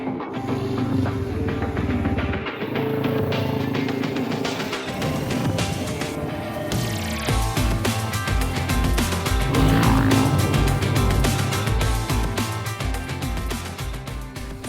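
A motorcycle rides off-road along a quiet countryside road in Portugal, its engine droning loudly and continuously with shifting pitch as it moves along, and no talking.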